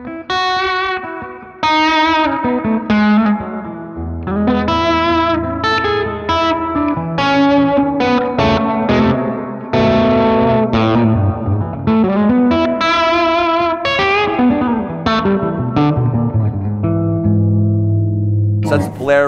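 An electric guitar played through a Digitech Polara reverb pedal plays a melodic phrase drenched in lush reverb, notes ringing out and overlapping into a long, shimmering tail, loud and up front.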